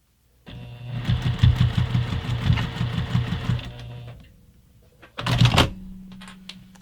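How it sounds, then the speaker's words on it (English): A sewing machine stitches the end of a fabric zipper pouch in a fast rhythmic burst for a few seconds, stops, then whirs briefly again close by. "we're going to take it over to the sewing machine, and we're just going to sew this end"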